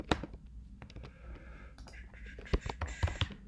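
Fingers tap a computer keyboard while a command-line game is quit, giving quiet, irregular clicks spread through a few seconds with a couple of sharper keystrokes near the end.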